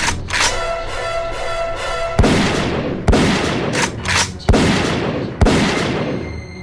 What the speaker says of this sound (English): Feast your eyes on a pump-action shotgun!